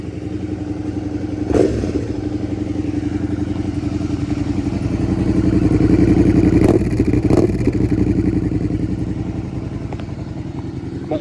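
A 2018 Suzuki SV 650 motorcycle idles nearby with a raspy, throbbing engine pulse, rising briefly in a mild rev mid-clip, with a few sharp clicks and clatters over the steady running.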